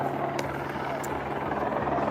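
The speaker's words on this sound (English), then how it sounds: "there's a bloody helicopter and everything." A helicopter flies over a street march, a steady low rotor thrum and engine drone filling the background while people talk nearby.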